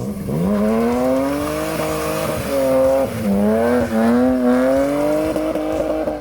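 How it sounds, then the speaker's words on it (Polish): A 2.5-litre BMW E30 car engine revs hard and continuously, its pitch rising and dipping through several throttle blips, loud and close. "Ten silnik, jak go odpalisz, to w promieniu 100 metrów wszyscy wiedzą, że idzie ogień."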